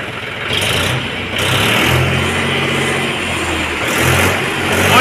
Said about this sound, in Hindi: वाह आवाज बहुत बढ़िया काटी ट्रैक्टर ने